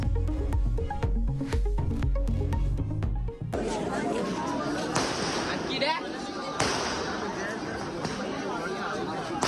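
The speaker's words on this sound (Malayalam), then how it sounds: "നാടൻ അമിട്ട് ആൾക്കൂട്ടത്തിനിടയിൽ വീണ് പൊട്ടിത്തെറിച്ചു." A locally made fireworks shell bursts in a crowd during fireworks at a temple festival in Azhikode, Kannur: music gives way to a dense, noisy roar of crowd chatter broken by a few sharp bangs.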